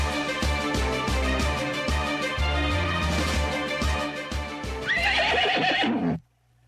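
A horse neighs loudly and at length in repeated whinnying bursts, with hoof clip-clops, ending in a sharp high whinny before sudden silence.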